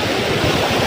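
Sea waves wash against the shore as a steady, loud, broadband rush of surf and wind, heard alone with no voices.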